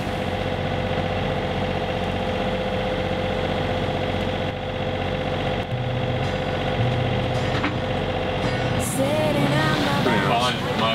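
A sailboat's engine runs steadily throughout, a continuous mid-pitched hum with faint vibration, while people talk nearby and some brief clatter comes near the end.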